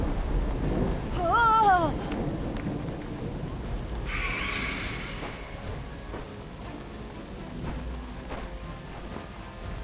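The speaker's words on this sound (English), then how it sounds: "What were you doing flying in that storm?" A thunderstorm in the Harry Potter Magic Awakened video game gives steady rain and a low rumble of thunder, with a bright crackling burst midway and a short vocal exclamation early on.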